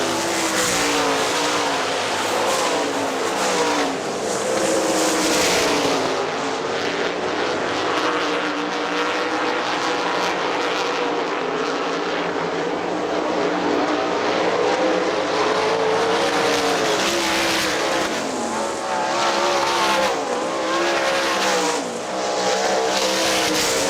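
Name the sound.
sprint cars racing at Hartford Speedway Park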